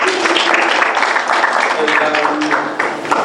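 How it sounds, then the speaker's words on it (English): Audience clapping at a panel session to welcome the moderator, a dense, steady wash of applause lasting a few seconds with voices mixed in. "Let's welcome Betty with a clap."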